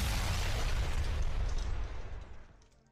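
A booming explosion effect from a Yu-Gi-Oh card video game bursts loudly at once, then rumbles and fades away over about three seconds, with no talk over it.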